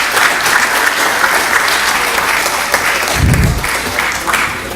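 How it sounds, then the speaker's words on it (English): Applause from a school board meeting audience for the Division of Operations staff, a dense sustained clapping from a crowd that holds steady throughout, with a low thump partway through. "Another round of applause for our Division of Operations."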